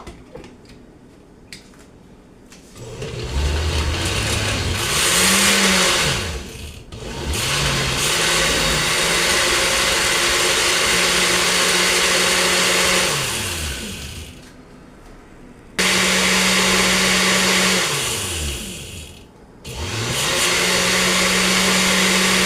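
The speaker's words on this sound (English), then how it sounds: "I finished gratering it, but it is still big, so I'm going to blend it all over" Grated coconut whirring in an electric blender, loud and close, running in long stretches with the motor pitch rising and falling as it speeds up and slows, stopping briefly a few times before restarting.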